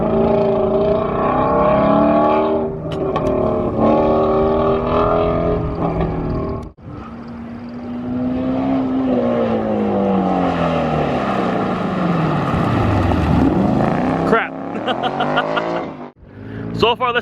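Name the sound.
car engine during an autocross run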